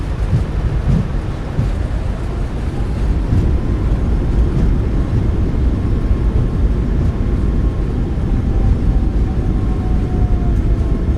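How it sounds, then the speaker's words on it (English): Boeing 737 MAX 8 thrust reversers decelerating the jet after landing, a loud, continuous deep roar and rumble heard from inside the cockpit that barely changes throughout. "Nose down gently. Reversers are out. Decelerating."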